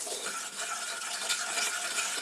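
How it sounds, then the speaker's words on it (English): Whisk or spoon stirring vegetable oil and flour together for a roux in a pot, a close, steady scratchy swishing that runs unbroken for a couple of seconds. "I'm stirring the oil and the flour together"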